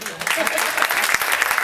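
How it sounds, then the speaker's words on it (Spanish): Audience applause at a live show, a thick continuous patter of hands that swells after a brief start, with voices mixed in underneath. "el lenguaje del espectáculo es darle las gracias en forma de aplauso"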